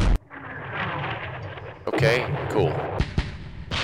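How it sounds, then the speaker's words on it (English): Mortar fire from the West Front war strategy game: a sharp burst and a few quick booming hits over constant background noise, with someone talking briefly. "The mortar going into action."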